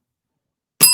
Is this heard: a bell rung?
yes